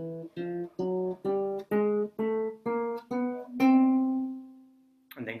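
A chromatic scale climbs note by note in half steps on a keyboard instrument, about a dozen distinct even tones rising steadily before the last one rings out longer, with a brief voice at the end.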